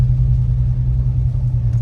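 Ram 1500 pickup with full coil-replacement rear airbag suspension rolling slowly over a speed hump, a steady deep low rumble of the engine and chassis, close and continuous with no talking.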